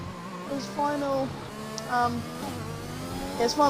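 An F1 race car engine in a multiplayer racing video game screams close by, its pitch repeatedly climbing and dropping with gear shifts on a final lap.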